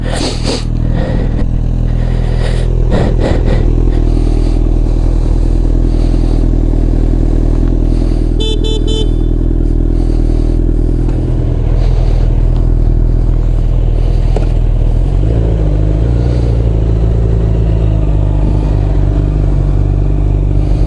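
A loud Honda CB1000R motorcycle engine runs steadily close up while riding, with clattering and rattles early on and a shift in engine tone later.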